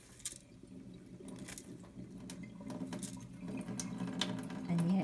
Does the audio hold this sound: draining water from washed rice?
yes